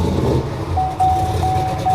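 A Chevrolet Silverado's 5.3L Vortec engine, worn and needing replacement, runs with a steady close rumble that rises as it is given gas, with a thin intermittent whine on top.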